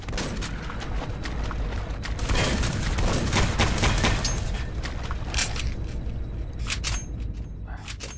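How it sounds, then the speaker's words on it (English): Sustained machine gun fire and booming impacts from skull enemies in the video game Eye Divine Cybermancy, a dense, loud, continuous clatter of gunshots with scattered sharper bangs and no talk over it. "These things are like forged skulls with machine guns."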